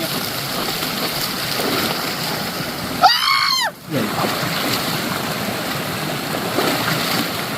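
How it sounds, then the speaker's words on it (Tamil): Rain-fed stream water flowing steadily while people bathe in it, a continuous rush with one brief burst of squeaky, chirping noise and a momentary dip midway, no clear speech. "மழை பெஞ்சு வர காற்றாட்டு தண்ணியில குளிச்சுட்டு இருக்கோம்."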